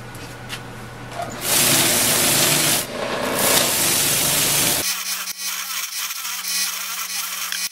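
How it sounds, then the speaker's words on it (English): Carved rawhide sign pieces pressed against a spinning mop sander, a loud rough rubbing hiss that swells and eases over a motor hum, then drops to the bare hum of the machine running on its own. "we polished these up on the mop sander"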